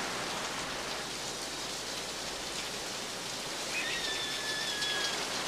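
Steady rain falls at night, a dense continuous hiss of drops on surfaces with no voices and only a faint thin whistle near the end.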